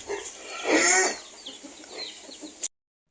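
A hen clucks close by in short, uneven bursts, with a louder call early on and softer clucks after it.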